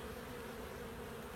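Steady, close insect drone of a European hornet, a continuous buzzing hum with no pauses, alone and fairly faint.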